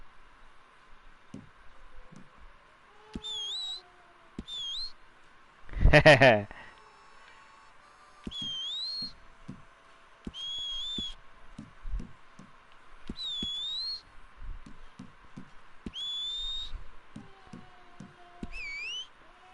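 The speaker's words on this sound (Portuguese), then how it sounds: "Aqui é pode editar o assobio." A character's whistle in Red Dead Online is repeatedly tried out while being edited, short rising whistled notes recurring every second or two, with clicks, a brief loud burst and a low background drone, no speech over them.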